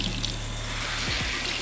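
Tap water runs steadily into a sink while hair is being rinsed, a continuous close splashing wash with a low hum underneath and no talk.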